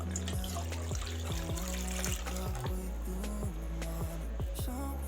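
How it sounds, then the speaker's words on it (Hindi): About a litre of milk is poured into a pan, giving a continuous close splashing, gurgling stream of liquid with a few dribbles and no speech. "बाकी दूध हम पैन में डाल देंगे"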